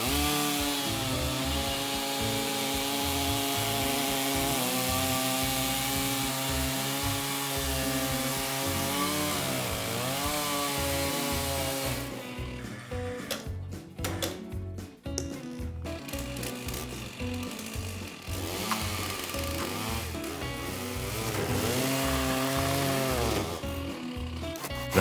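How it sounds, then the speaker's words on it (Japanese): A chainsaw runs steadily cutting logs for a BBQ table, its engine droning with wavering pitch as it bites through wood, easing off briefly midway before revving back up. "もちろんこのいつものチェーンソーで切っていきます。"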